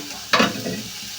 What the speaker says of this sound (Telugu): ఈ ఉల్లిపాయలు అనేది బాగా ఫ్రై చేసుకోవాలండి